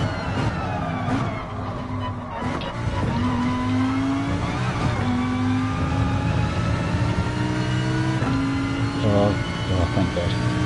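Race car engine in GT Sport, a steady loud drone with shifting pitch under continuous motor roar, gear changes punctuating it throughout.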